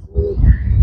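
Racer pigeons give a low, rounded cooing close by, a soft throaty burble that swells after a brief quiet start and carries on steadily through a short stretch.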